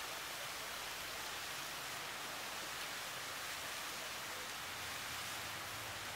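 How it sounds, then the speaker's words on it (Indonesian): Twin waterfalls at night at Gunung Wuluh during a traditional Friday Kliwon gathering give off a faint, steady, even rush of falling water, with no breaks and no voices. "air terjun di kiri dan di kanan"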